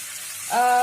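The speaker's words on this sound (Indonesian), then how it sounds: "Kita lakukan teknik penumisan seperti ini, penambahan air seperti ini" Spiced potato sambal being stir-fried as water is added: quiet hiss at first, then a sudden loud burst of sizzling that swells and holds close up.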